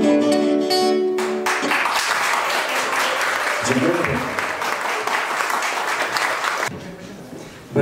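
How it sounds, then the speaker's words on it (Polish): Audience applauding for a performer named Piotr at a Vilnius Kaziuki fair gathering in London, steady dense clapping following a fading musical note, then cutting off near the end. "Brawa dla Piotra"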